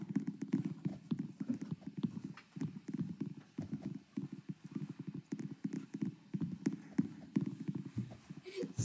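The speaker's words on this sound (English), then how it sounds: "That sounded like a horse." Rapid video-game horse hoofbeats clip-clop in a steady running rhythm, like a horse trotting nearby, with occasional snorts mixed in.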